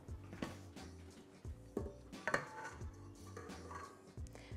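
Chocolate and oil are whisked into cake batter in a bowl, with light clinks and taps of the utensil against the bowl in an uneven rhythm, quiet and close with no voices.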